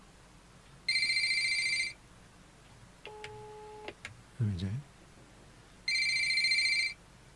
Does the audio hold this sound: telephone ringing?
yes